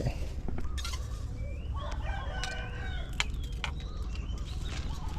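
A rooster crows outdoors near a pond during a fishing trip, its call rising once or twice in the middle distance over steady background noise and water ambience, with no talking.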